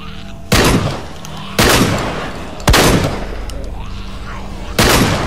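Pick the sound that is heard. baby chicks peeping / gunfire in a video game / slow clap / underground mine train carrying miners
gunfire in a video game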